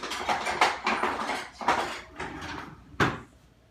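Kitchen utensils clatter and rattle in a series of short bursts as a small spatula is pulled from a drawer, ending with one sharp knock.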